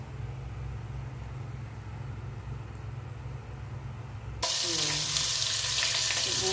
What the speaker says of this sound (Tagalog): magigisa ako ngayon ng sibuyas